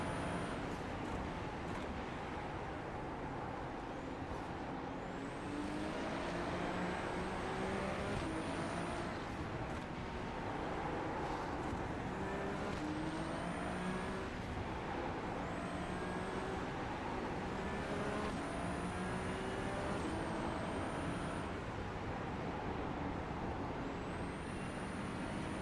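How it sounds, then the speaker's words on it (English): Several Ferrari 296 Challenge race car engines in the iRacing video game whine and rise in pitch over steady road-like rumble at The Bend circuit, with repeated high gear-shift tones sweeping up every few seconds. "These other cars sound so good."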